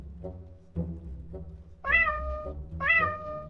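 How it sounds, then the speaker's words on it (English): A cat meows twice, clear, drawn-out mewing calls rising and falling, after a few soft lower sounds, fairly quiet and alone with no speech. "The cat chases mice and loves to nap."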